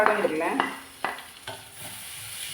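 Oil sizzles in a pan for Davangere benne dosa while stirring scrapes through it, giving a close run of sizzling with a few sharp clinks and scrapes.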